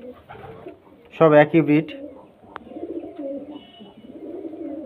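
Male pigeons coo in a loft, low murmuring calls running steadily in the background while someone talks loudly for a moment close by.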